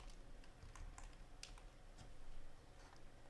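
Someone types quickly on a computer keyboard, entering Ctrl X and then Y. The sharp key clicks come in short bursts over quiet room noise, with no talk.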